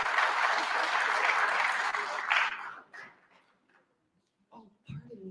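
Audience applause at the KPEDD 2023 Industry Outlook Forum greeting a speaker, dense clapping from a crowd that holds steady and then fades away, followed by a few quiet spoken words.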